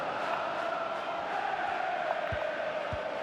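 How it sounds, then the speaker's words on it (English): Stadium crowd in the FIFA 20 football video game keeps up a steady, distant roar of cheering and chanting, a continuous wash of noise with a couple of faint thumps near the end. "just listen to the crowd"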